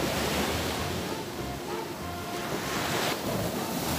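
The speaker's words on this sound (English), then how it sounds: "kitang kita nyo natin po ang lakas ng alon" Strong waves at Sealine Beach roar in a continuous broad wash of surf, loud and close, with wind buffeting the microphone.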